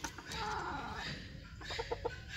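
Chickens, including young chicks and a hen, cluck and chirp softly at a moderate distance, with a few short clucks over steady outdoor background noise.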